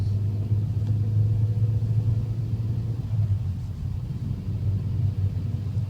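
Engine of a car fitted with a 1.8T and a close-ratio six-speed gearbox pulls through the gears, a loud steady low rumble heard from inside with gentle rises and dips in pitch.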